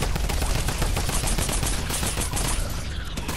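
A drum gun in Fortnite fires a loud, rapid, sustained stream of shots that tapers off near the end of the burst.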